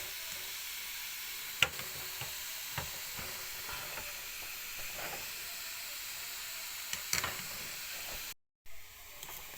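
Grated raw papaya thoran fries in a pan while a spoon stirs it, giving a continuous soft sizzle and hiss with occasional scraping taps, no talk.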